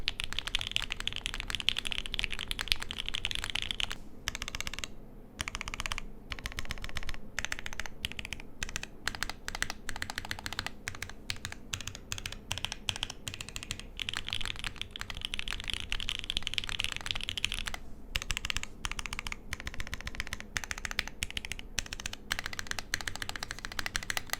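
Continuous typing on a modded Forever65 65% mechanical keyboard, with rapid, close clacks in uneven bursts and a few brief pauses throughout.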